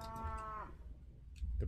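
A cow in modded Minecraft gives a single close, drawn-out moo that slides downward and fades out, followed by faint low thumps.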